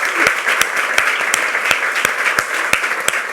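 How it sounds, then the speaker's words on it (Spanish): An audience at a book launch gives a short round of steady, close applause, a dense wash of clapping with a few sharper individual claps standing out at a regular pace. "por favor, un aplauso"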